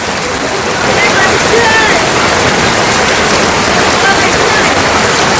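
Heavy rain pours down in a village during the rainy season, a loud, dense and continuous hiss of water that swells after the first second and holds steady.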